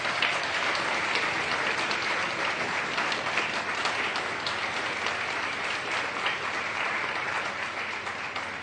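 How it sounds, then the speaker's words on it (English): Steady, dense applause from an audience at a student election results night, honouring the candidates; continuous clapping stays even and fairly loud throughout with no voices. "Can we get a round of applause for all candidates"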